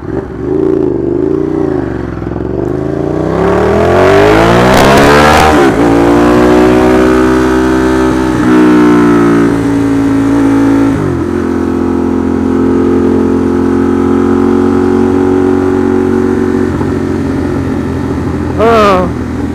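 A motorcycle engine rumbles loudly up close, revving up and down in pitch before settling into a steady idle.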